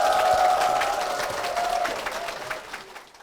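A church congregation claps to welcome a pastor and her two sons, the dense applause fading out toward the end with faint voices beneath it.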